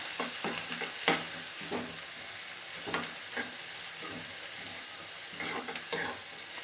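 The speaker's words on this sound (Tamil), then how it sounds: "வெங்காயம் கருவேப்பிலை போடுறேன். போட்டு நல்லா வதக்குங்க." Onions and curry leaves sauté in a pan for channa masala, a steady sizzle broken by repeated scraping stirs of a spoon every second or so, close up with no voices.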